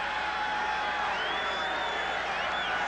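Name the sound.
stadium crowd cheering at 1988 Packers vs Buccaneers football game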